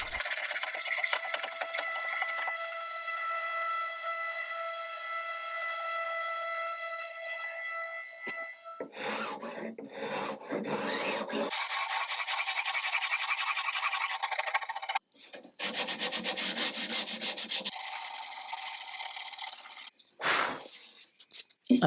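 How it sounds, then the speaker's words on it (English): Sandpaper scrubbed by hand across the wood of an old salvaged cupboard during restoration, in long bursts of close, rasping strokes separated by short pauses. "I've just sanded this whole thing by hand and it's taken forever"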